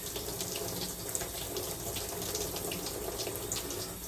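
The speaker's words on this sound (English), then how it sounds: "You want to kind of just shower the item." Water gently showers over a freshly hydro-dipped item during rinsing, producing a steady, even hiss of spray that runs unbroken throughout with no voices.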